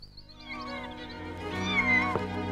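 A cat gives a drawn-out, wavering meow that rises and falls in pitch, heard fairly close over a quiet, low background hum.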